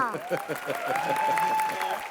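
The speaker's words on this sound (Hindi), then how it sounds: "जोरदार तालियां।" An audience claps in quick rhythm at a televised comedy show staging a spoof Indian music award, with a sustained sung or voiced tone riding over the applause.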